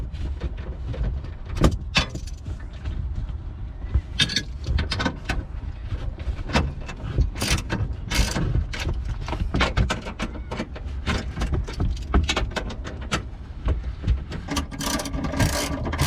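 A ratchet tightens the Megan Racing strut bar bolts on a Subaru WRX in bursts of clicking pawl strokes, near and fairly loud, with metallic clanks between them.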